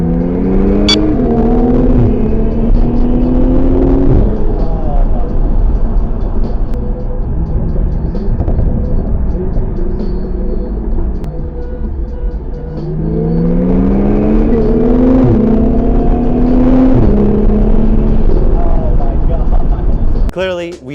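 Car engines rev repeatedly in a simulated video game race against a BMW F87, with rising gear-shift whines that climb, drop and climb again. The engine noise is loud and steady, with a voice talking over parts of it.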